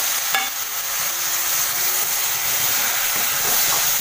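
Seeds and dried shrimp hit hot oil with sautéed onion in a village kitchen pan, giving a steady, moderately loud sizzle and crackle with a faint stir near the start and no talking.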